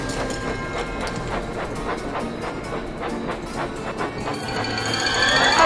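A toy train in a Thomas and Friends video game rolls along its tracks with a steady clickety-clack rhythm, a hiss building toward the end, and no voices.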